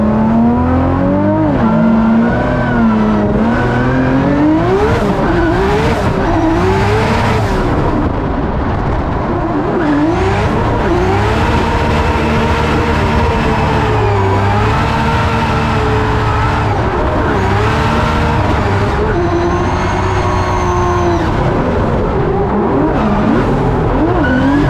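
Nissan S15 drift car on Nitto tires making a lead run at a Formula Drift event in Long Beach, engine wailing loud and continuous through rising and falling revs, with tire squeal and skidding throughout and no talk.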